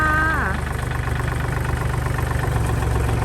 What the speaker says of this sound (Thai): วันนี้แม่ค้าจะพาลูกค้าท่านมาชมวิดีโอการทำงานของรถไถ บัต้า L 3 6 0 8ปี 54